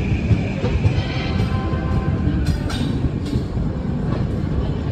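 The 19019 Bandra to Haridwar Express rolls along the rails near Tapri Junction, heard from inside an AC coach as a loud, steady rumble with faint wheel clicks throughout.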